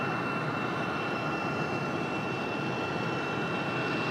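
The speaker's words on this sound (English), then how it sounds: "UPS A300 departing at 9:14" A UPS Airbus A300 departing Raleigh Durham airport, its jet engines a loud, steady broadband roar with a faint high whine, constant throughout at close to medium distance.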